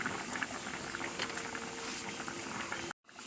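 A curry of bitter gourd, onion and turmeric bubbling in a pot, a soft continuous boiling burble heard up close and fairly quiet, cutting off abruptly near the end.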